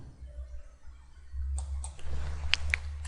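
A computer mouse clicks in Autodesk Inventor 2015 CAD software, a few faint, sharp clicks close together in the second half over a quiet room hum.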